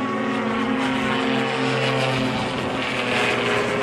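An airplane takes off from a runway with a loud, steady engine roar that holds strong and continuous throughout, with no voices over it.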